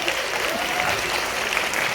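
An audience at an awards show in a theatre applauds steadily, a dense, even wash of clapping that holds at full strength for the whole stretch with no voices on top.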